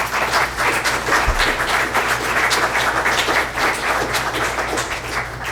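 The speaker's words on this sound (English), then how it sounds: "And a round of applause for them." Sustained applause from the audience at a village government meeting, steady dense clapping filling the room without a break, loud and close, with no speech over it.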